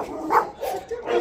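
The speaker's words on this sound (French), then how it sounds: "Non, mais ça arrête pas d'aboyer pour rien" A dog at an adoption shelter gives a few short, close barks and yips in quick succession within about a second, loud and sharp against a quiet background.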